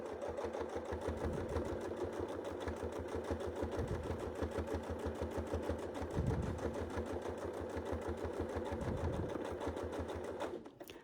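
A sewing machine stitches wavy lines in free-motion quilting, a fast, even mechanical chatter running steadily close by, with soft thumps between and a brief stop at the end.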